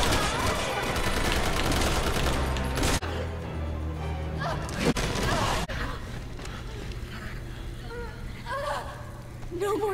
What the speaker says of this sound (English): then I'm gonna shoot this